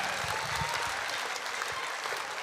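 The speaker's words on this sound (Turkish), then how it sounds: "Поддержим аплодисментами, друзья." Steady audience applause fills a Crimean Tatar Hidirlez concert hall in 2024, a dense, continuous wash of clapping hands with no speech over it.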